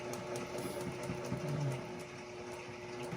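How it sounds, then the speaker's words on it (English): A sewing machine stitches fabric for a child's blanket, a steady, close mechanical hum with a fast, even rhythm and no pauses. "And we're sewing. And we're sewing."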